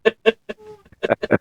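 A chicken gives a quick run of loud, close clucks, two sharp notes, a short pause with a soft drawn sound, then a rapid cluster of clucks, with no talking over them.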